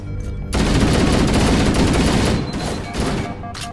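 Loud, rapid gunfire from a video game bursts in after half a second and rattles on as dense continuous automatic fire for roughly three seconds, close and dominant, briefly easing near the end before a final flurry.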